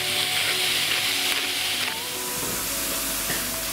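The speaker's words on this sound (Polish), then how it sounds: "Pieczarki musimy podsmażyć na złoty kolor." Mushrooms sizzle and crackle loudly in a hot pan, a steady frying hiss with occasional shifts as they are stirred.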